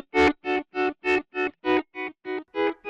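A pedal steel guitar run through a harmonic tube distortion effect plays ten evenly spaced sustained notes, each swelling and cutting off in a steady rhythm, bright and slightly gritty.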